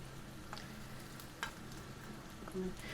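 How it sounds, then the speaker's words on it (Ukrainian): Chopped onion sizzles softly in a pan on the stove, a faint steady fry broken by a few light stirring clicks. "Так, цибулька підсмажується."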